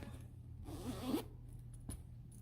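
A zipper is drawn shut on a stuffed Santa hat pillow cover, a single near, scratchy zip of about a second, surrounded by quiet handling.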